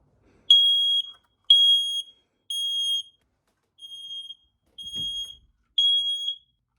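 Hardwired smoke detector sounding its test alarm, six loud, shrill electronic beeps in an even rhythm with short gaps between them, close and clear, with a faint click partway through.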